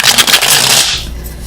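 A small tarot clarifying deck is shuffled up close, a dense papery riffle and rustle of cards that runs loud through the first second before thinning out, with no voices.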